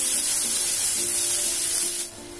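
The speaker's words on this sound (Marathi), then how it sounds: "आणि कांदा परतवून घ्यायचा आहे।" Onion and red chilli pieces sautéing in oil in a pan for a guar bean curry, a steady close hiss that carries on without a break, then drops off sharply near the end.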